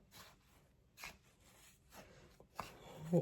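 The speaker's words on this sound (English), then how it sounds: "I'm gonna just Give it a mix, combining everything together." Coconut rock bun mixture being stirred in a bowl: quiet, close scraping and rubbing strokes in a loose rhythm, each a soft swish of the thick batter, with no talk.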